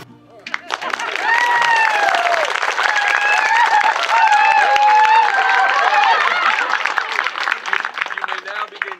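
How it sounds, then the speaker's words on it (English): Wedding guests break into loud, continuous clapping and cheering after the couple is pronounced married, with excited voices and whoops mixed through the applause. "you guys can clap"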